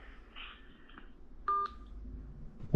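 A short touch-tone beep from a telephone keypad as a number is dialed to place a call. It is crisp and fairly loud against a quiet room, and a low thump follows near the end.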